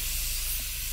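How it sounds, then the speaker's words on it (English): Steam hisses steadily from an Afghan Kazan pressure cooker set over a wood fire, a continuous close, loud spray-like rush with a faint low pulsing beneath. "Every time that little puff of steam comes out,"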